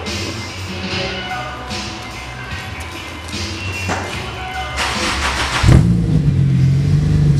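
An Acura RSX Type-S with a custom exhaust and no muffler idles, then revs up sharply near the end, loud and close after some quieter engine noise.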